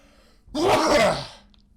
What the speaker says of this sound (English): Man, that was a powerful sneeze.